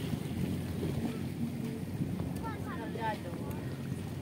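Seaside water and wind wash steadily near shore where a small boat sits, a constant rushing texture with a few faint chirping bird-like calls midway and no clear individual wave crashes.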